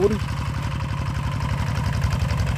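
A small single-cylinder walk-behind tractor engine from the 1990s runs steadily nearby, a rapid even chugging putter at constant speed.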